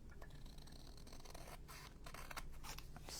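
Large scissors trim a thin white edge off a paper specimen card for a junk journal, giving close, steady snipping and crisp paper scraping for a few seconds, with no voices.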